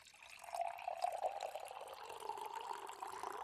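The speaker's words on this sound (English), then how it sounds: "Pour me another glass, would you?" Wine poured into a glass, a soft, continuous trickling stream with a rising liquid tone, faint and close, with no talking.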